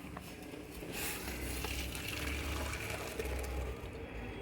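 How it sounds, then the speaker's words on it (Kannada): Cooked vermicelli (shyavige) is drained through a strainer, giving a steady, close rush of pouring and splashing water that runs continuously with no voices. "ಈಗ ಇದನ್ನು ಸ್ಟ್ರೈನರ್ಗೆ ಹಾಕಿ ಈ ಥರ ಬಸ್ಕೊಳ್ತೀನಿ"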